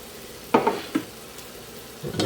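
Sweet smoked paprika and cumin with bay leaf fried in a pan for a bean dish, soft sizzling under a few distinct scraping stirs from a spoon, close and fairly quiet, with no talk.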